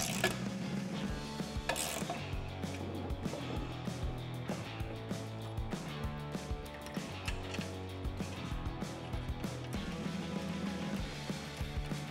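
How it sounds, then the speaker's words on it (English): A ratchet with a 13mm socket tightens bracket bolts for Jeep Wrangler JL side step bars, producing steady close ratcheting clicks with occasional metallic knocks and pauses. "we can take a 13mm socket and a ratchet and go ahead and tighten those down"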